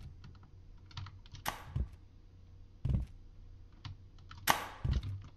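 Keyboard keys pressed during a Happy Wheels game, sharp clacky taps scattered irregularly, a few louder bursts standing out against a quiet background.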